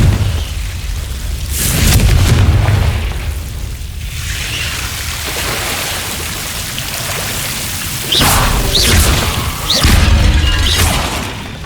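Confringo spell blasts in the video game Hogwarts Legacy, loud booming explosions with crackling debris and rumbling, several heavy bursts separated by sustained roaring noise, up close and without talk.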